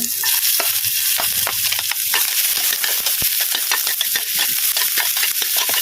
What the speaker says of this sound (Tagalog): Umpisa na nga natin guys mag-isa ng bawang.